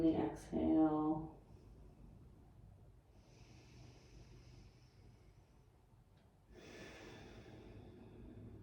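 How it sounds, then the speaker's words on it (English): Slow meditation breathing: soft, faint inhales and exhales drawn out over several seconds after a brief louder sound at the start. "notice the change through the inhale and the exhale"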